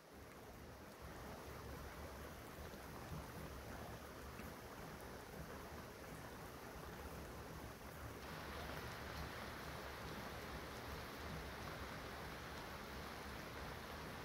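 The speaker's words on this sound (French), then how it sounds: "Ça pleut sur le téléphone" Rain from a moderate-to-strong thunderstorm patters steadily on a phone, a dense close hiss of drops that thickens partway through, with no voices.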